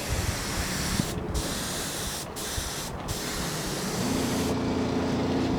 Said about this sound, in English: Spraying with a touch-up gun,